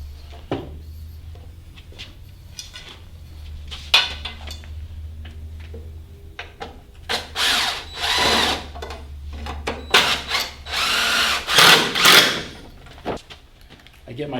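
Power drill driving screws into a sewing workstation during assembly, heard as several short, loud, close bursts in the second half over a steady low hum, with scattered handling knocks and faint voices.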